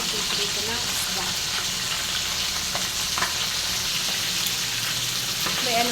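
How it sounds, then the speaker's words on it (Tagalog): Fish frying in a pan, a dense continuous sizzle and crackle with scattered pops, close and steady throughout. "ako po ay nagpiprito ng isda"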